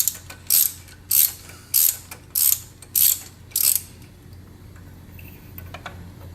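Six evenly spaced ratcheting bursts from a socket wrench working a spark plug loose, loud and close in the first four seconds, then quiet with faint handling noise.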